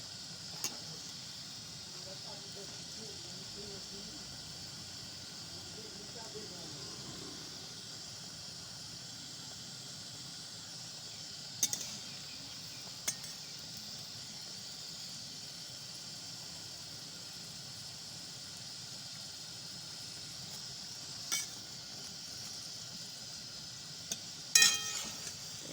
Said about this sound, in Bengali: এরকমভাবে সব পাতাগুলো একে একে ভেজে নিতে হবে